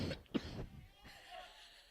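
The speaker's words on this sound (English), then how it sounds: "that's just my cough" A single short cough rings out close by at a boys' high school lacrosse game, followed by quieter throat noises and faint background sound.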